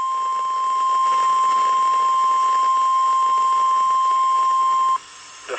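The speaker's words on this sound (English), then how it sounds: "Another emergency alert." Emergency Alert System attention tone from a San Francisco broadcast: a loud, steady electronic tone that holds unbroken for about five seconds and then cuts off abruptly, followed by a brief quiet tail.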